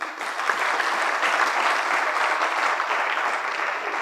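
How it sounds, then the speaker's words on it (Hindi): An audience at a school career-counselling seminar breaks into full, even clapping that holds steady for a few seconds, dense and close, with only faint crowd murmur beneath. "ताली हो जाए भाई।"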